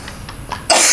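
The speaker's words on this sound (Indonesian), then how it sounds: "Aduh, batuk." A single sharp, loud cough bursts in close to the microphone after a stretch of quiet room tone in a studio talk show.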